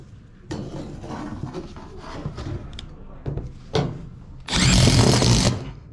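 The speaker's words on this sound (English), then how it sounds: "So I'm just gonna unscrew these and just strap it in a different way" A power drill unscrews strap screws during a Belimo valve actuator installation on a hydronic HVAC pipe, with clanks and handling knocks first, then a loud burst of drill whirring near the end.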